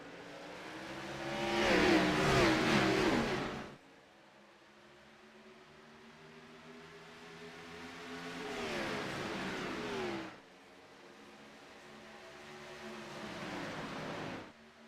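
Race cars in a stock-car racing video game at Texas roar past in three swelling passes, each engine rising loud and then cutting away, with a quieter drone between them.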